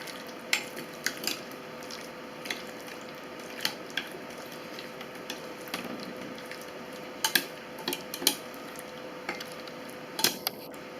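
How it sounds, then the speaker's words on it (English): Borax being mixed into jelly in a container, with soft squishing and stirring and irregular sharp taps and clinks of the utensil, close and fairly quiet, with no speech. "we are going to mix the borax"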